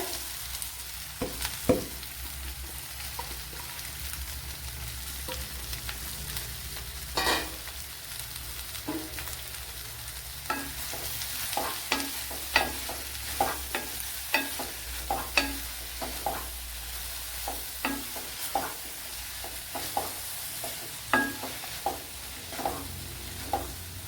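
Two medium onions frying in butter for butter chicken, a steady low sizzle with a run of regular spatula scrapes and clacks against the pan, no speech.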